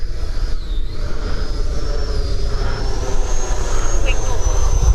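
An E-flite Viper RC jet with an electric ducted fan flies past, giving a continuous whining whoosh whose pitch rises and falls as it moves. Someone talks over it.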